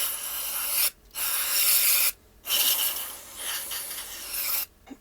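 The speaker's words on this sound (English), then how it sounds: "Just sprayed it out with some cleaner." Cleaner is sprayed into the water pump of a water-cooled Traxxas Slash 4x4 RC car after a stuck rock is removed. Three loud bursts of rasping hiss are separated by short silences.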